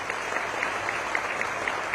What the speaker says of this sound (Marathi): आपण सर्वांनी टाळ्या वाजवून लोक महाराजांचं अभिनंदन व्यक्त करा